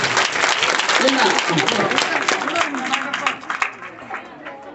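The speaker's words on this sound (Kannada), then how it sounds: "ಜೋರಾಗಿ ಜೋರಾಗಿ ಚಪ್ಪಾಳೆ" An audience at a Guru Poornima celebration in a village in Kalaburagi district bursts into loud, dense applause that gradually thins out into scattered claps near the end.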